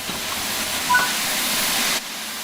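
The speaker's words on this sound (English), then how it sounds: "as well as basic passenger operations in a Scania 8F steam locomotive." A Scania 8F steam locomotive in the Train Sim World 4 video game gives off a loud, steady steam hiss close by. The hiss cuts off abruptly after about two seconds, leaving a low hum.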